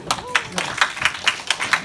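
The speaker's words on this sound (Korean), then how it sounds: "자, 박수." A small youth church congregation claps in a short, fairly regular run of about eight distinct claps, close and moderately loud, with a brief voice at the start.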